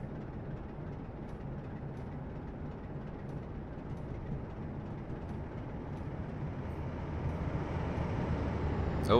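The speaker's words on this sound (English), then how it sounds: "Got a train coming." A train passing in Train Simulator 2016, heard as a steady broadband rumble and rolling noise that grows gradually louder toward the end, with no talk over it.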